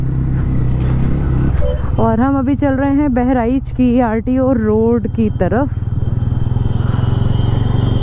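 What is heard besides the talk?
motorcycle riding on a road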